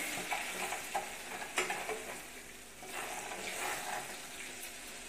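Finely ground chole masala paste frying in hot oil, a soft constant sizzle broken by a few sharper clinks and scrapes of the spoon as it is stirred, close and quiet with no talking.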